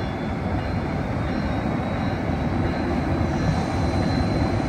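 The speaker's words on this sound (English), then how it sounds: "this is Amtrak San Joaquin bound train 713, the train I just got off of" Amtrak San Joaquin train 713 led by SC44C locomotive 2104 at Richmond station, California, gives a steady, loud, close rumble and roar that holds evenly throughout.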